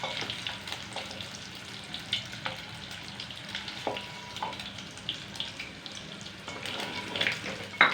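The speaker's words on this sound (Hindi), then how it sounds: "और अंडों को, आलू को हल्का हल्का सा फ्राई कर रही हूँ।" Potatoes fry lightly in a pan with a low continuous sizzle and scattered crackles, while occasional clinks and bumps of utensils sound close by and no one speaks.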